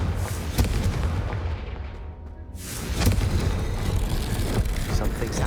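A Confringo blasting spell explodes in Hogwarts Legacy, a loud booming blast that swells, briefly thins out and then roars back, filling the scene with dense rumbling noise.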